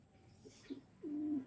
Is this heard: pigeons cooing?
yes